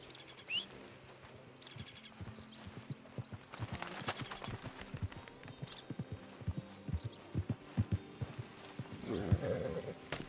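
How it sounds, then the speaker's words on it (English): Hooves of a Sable Missouri Foxtrotter horse clip-clopping in the Red Dead Redemption game world, a steady walking rhythm of sharp nearby hoofbeats with faint bird chirps and other game sounds behind. "that's a beautiful, beautiful horse. What kind of horse is this? This is a Sable Missouri Foxtrotter."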